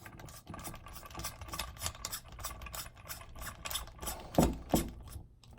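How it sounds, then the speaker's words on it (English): A tool tightens the baffle retainer nut into the top of a Griffin Armament Optimus suppressor, producing rapid, repeated ratcheting clicks close up, ending in a few louder metallic snaps. "Screw this right into the top to hold your baffles in."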